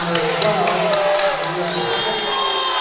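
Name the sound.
basketball fans clapping and screaming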